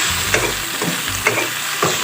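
Torn pota shak leaves fry briefly in a pan, a near hiss of sizzling oil broken by a few soft spatula stirs and scrapes.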